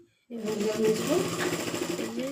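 A sewing machine stitches pleats into a salwar, its motor starting abruptly and running in a steady, close whirring hum with a fast rhythmic needle chatter.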